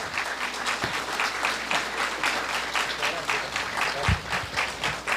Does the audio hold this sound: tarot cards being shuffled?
no